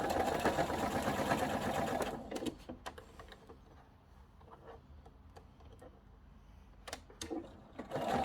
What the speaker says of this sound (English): So just get it under the machine and start sewing.